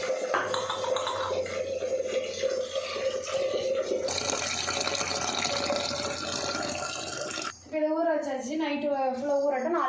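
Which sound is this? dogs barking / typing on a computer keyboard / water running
water running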